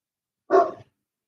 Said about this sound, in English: Dang dog. I just am tired of hearing his voice.